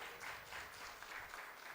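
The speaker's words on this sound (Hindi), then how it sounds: "निश्चित रूप से अच्छे से ताली बजाएं।" Audience applause fills a Jain Chaturmas Kalash Sthapna religious programme in Vivek Vihar, a steady wash of many hands clapping at once, dense and continuous with no break from start to finish.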